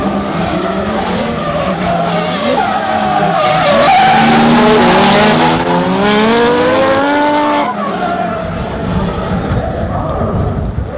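Two Nissan drift cars, an S13 and an S14, scream through a chase run at a D1NZ Pro-Am round in Tauranga, tires squealing loudly and continuously under high-revving engines, close and sustained for the whole stretch.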